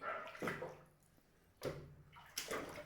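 Water poured over a child during a bath at home, a few splashing pours in separate bursts with quiet gaps between them, close and moderately loud.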